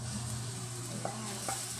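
Corn kernels hit a hot pan for a corn soup and sizzle steadily with a low frying hiss, a couple of faint stirring clicks near the end, no talking.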